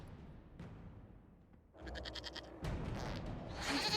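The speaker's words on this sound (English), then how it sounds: "we discovered this man attacking the building with a goat" Goat bleating in Dragon Age Inquisition during a judgement scene, with a short wavering bleat after a quiet stretch followed by louder scraping and rumbling game sounds and no speech.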